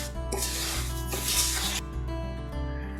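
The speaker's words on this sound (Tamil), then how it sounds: "சர்க்கரை கொஞ்சம் மெல்ட் ஆகிற வரைக்கும் நம்ம மிக்ஸ் பண்ணி விடுவோம்." Sugar being stirred in a pan while making aflatoon sweet, a steady close scraping and rubbing of a spoon across the pan in repeated strokes, with no voices.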